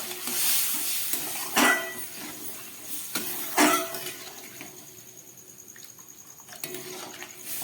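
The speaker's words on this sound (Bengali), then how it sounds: "এবার একটু জল দিয়ে দিচ্ছি।" Water going into pea ghugni cooking in a pan, giving a few sharp splashes and sizzling hisses followed by a quieter steady bubbling simmer, close by, with scraping clinks of a spoon against the pot.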